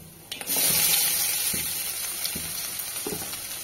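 Grated coconut frying in hot oil for a mushroom curry with jackfruit seeds, a steady close sizzle that starts abruptly and carries light stirring scrapes, with no talk.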